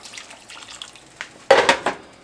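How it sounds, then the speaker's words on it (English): Water goes into a cooking pot for beef minestrone soup: faint trickles and drips lead to a brief, louder splash near the end, heard close up with no voices. "We're going to put some water in there."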